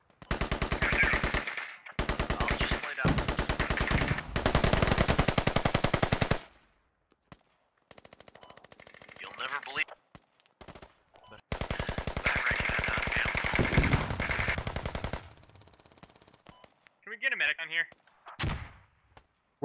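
Gunfire from the video game Squad crackles in long, dense automatic bursts, close and loud, with pauses between them, while players talk over radio.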